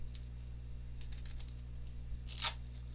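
Small pieces of hook-and-loop Velcro pulled apart, a short quiet ripping crackle with a few faint tearing bursts and a louder rip near the end, close up.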